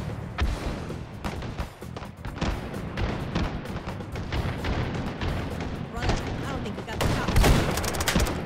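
Gunfire in the VR shooter Hot Dogs, Horseshoes & Hand Grenades, with rapid bursts of shots and booms in a dense, continuous barrage, under a player talking.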